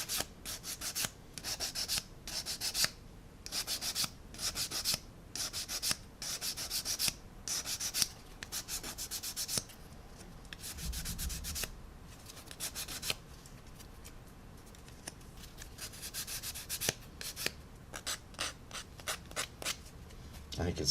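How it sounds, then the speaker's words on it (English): Coarse sanding stick scraping back and forth over a resin rotor blade fold part for a 1/35 AH-1Z Viper model; close, rhythmic rasping strokes in bursts with pauses, with a voice talking in places. "I'm just going to sand away using a coarse stick so it gets rid of"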